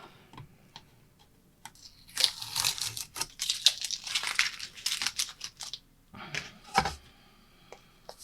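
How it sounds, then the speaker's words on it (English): Tape being peeled off watercolor paper, a close crackling, ripping rasp in several bursts separated by short quiet pauses, with small ticks and crinkles between the pulls. "Take the tape off."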